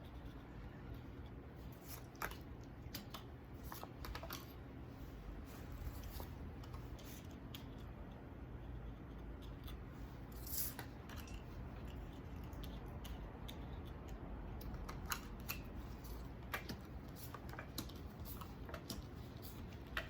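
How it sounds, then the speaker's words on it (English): Tarot cards are cut and laid out one by one in a circle, giving a long run of soft, irregular taps, flicks and slides on a table against a quiet room hiss. "is cut the deck at the Queen. And we're going to lay the cards out in a circle with her at the top."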